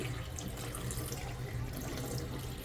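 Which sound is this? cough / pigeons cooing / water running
water running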